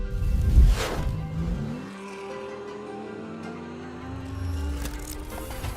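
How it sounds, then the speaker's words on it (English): A car engine revs loud and close, its pitch sweeping upward, then settles into a sustained rising drone that swells again near the end, with a whooshing rush over the top. "The engine that put the world in motion."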